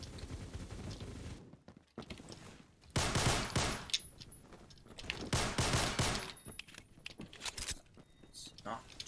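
Pistols fire in Phantom Forces, a first-person shooter game, with bursts of rapid sharp shots separated by short quiet gaps while a player talks throughout.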